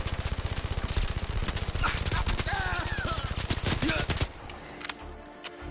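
Rapid automatic gunfire from the Blood and Truth video game, a dense, steady burst of shots that runs loud and close for about four seconds, then stops abruptly and leaves faint background noise.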